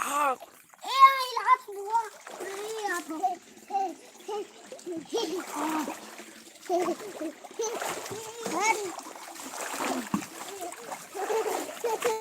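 A child splashes hot bath water at bath time, with repeated splashes and a voice, while an adult talks nearby.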